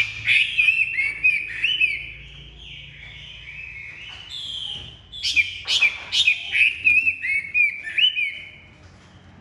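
A hwamei, the Chinese melodious laughingthrush, sings close by in loud, varied bursts of clear whistled phrases and rapid trills, pausing briefly between phrases, with no talk over it.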